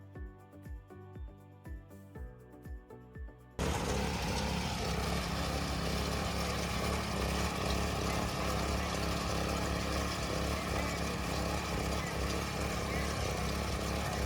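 A small 7 HP power weeder engine runs steadily and loudly after a short stretch of quieter tapping sounds, a constant droning roar that continues to the end.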